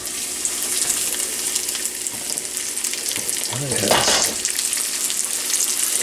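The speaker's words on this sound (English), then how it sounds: "I'm going to put my fillets in it. It's going to be nice and hot." Fish fillets sizzling in a hot pan, a steady bright hiss of frying with a brief louder surge midway, close up, and a short spoken word from the cook.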